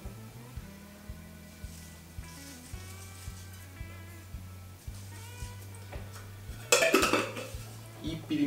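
Brussels sprouts and pork belly being stirred in a pan, with repeated light metallic clinks of a utensil against the pan, low background hum, and a brief louder burst of scraping and sizzle near the end.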